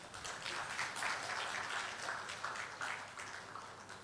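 Steady applause from an event audience at a stakeholder engagement forum, fairly faint and continuous with no clear individual claps, filling the whole stretch.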